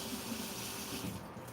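Tap water runs steadily into a sink over cooked pasta noodles, a continuous close rushing flow with no voices.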